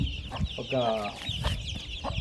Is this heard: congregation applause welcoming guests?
no